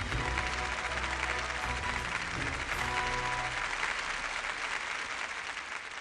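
Audience applause at a televised archaeology lecture, a steady dense wash of clapping that holds loud and even throughout before tapering slightly at the end, with no voices.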